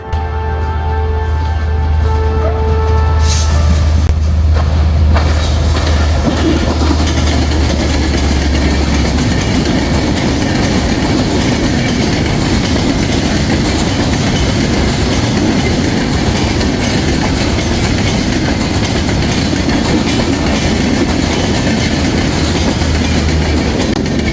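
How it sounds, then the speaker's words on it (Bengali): The Panchagarh Express passenger train rolls past on the railway line at the Hili land border crossing, a loud continuous rumble with rhythmic clickety-clack and faint wheel squeal. "সীমানার মাঝখান দিয়ে যে রেল লাইনটা চলে গেছে ট্রেন আসতেছে"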